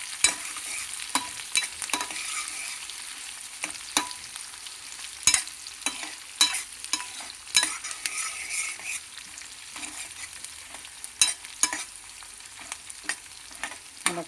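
Curry leaves frying in hot oil for a tempering added to cucumber dal, with a steady close sizzle and crackle and intermittent sharp pops and stirring scrapes, no voices.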